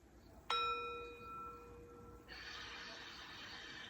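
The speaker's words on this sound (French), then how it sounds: "tu entends une cloche au loin." A single distant bell strikes once with a sharp onset, its clear ringing tone hanging and slowly decaying over several seconds while a soft hiss of background noise rises beneath it.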